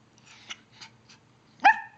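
A puppy gives a few soft, short yips, then one louder, sharper bark at the end, close by in a quiet room.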